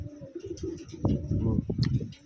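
Wantai pigeon, a medium-sized bird, cooing in soft low repeated pulses close by, mixed with handling noise and brief rustles.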